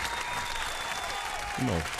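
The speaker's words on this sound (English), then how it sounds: "give them a big round of applause" Audience applause during a genealogy talk, a steady dense clatter of clapping hands throughout, with a voice briefly speaking near the end.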